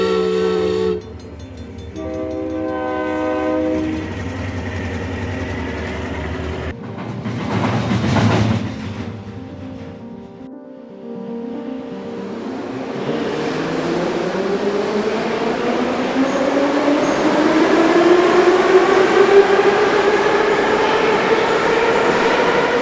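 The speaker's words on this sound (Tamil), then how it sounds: "உண்மையாகவே ரயில்கள் எப்படி இயங்கும் அப்படின்றத தத்ரூபமாக மினி ரயில்கள்" Three miniature model trains run on a detailed layout inside a home in Chennai. Early whistle-like tones give way to a steady rolling rumble that builds and grows louder over the stretch, with no talking.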